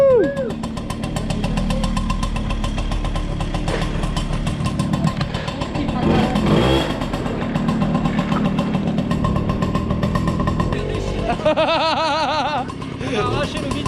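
A Tomahawk moped with a two-speed automatic, oil-bath transmission runs nearby with a buzzing engine that swells and wavers as it accelerates, while people talk and laugh over it.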